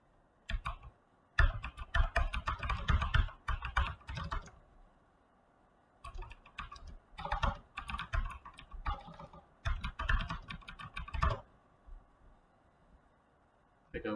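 Typing on a computer keyboard while free-text notes are entered in the Paragon nursing care-plan software: quiet, close bursts of rapid key clicks separated by short pauses.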